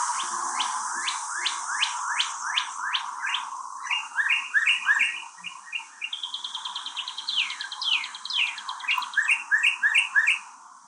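Northern cardinal song: clear, loud whistled phrases repeated in quick series, first slurred downward notes, then faster chirping trills and rising sweeps, close and alone without talk.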